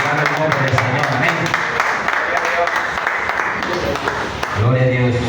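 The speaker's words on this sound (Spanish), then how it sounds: "Brindando un fuerte aplauso." A church congregation applauds steadily for several seconds, with cheering and voices mixed in under the clapping.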